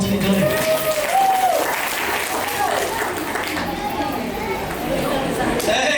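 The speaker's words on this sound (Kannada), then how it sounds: "ಚಪ್ಪಾಳೆ ಹಾಕಿ ಪ್ಲೀಸ್" Audience clapping at a traditional music event, a steady wash of applause with loud voices and chatter running over it throughout.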